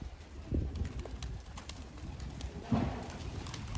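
Pigeons in a loft of about 200 to 230 birds give faint coos and scattered rustles and shuffles at a moderate distance, with no voice heard.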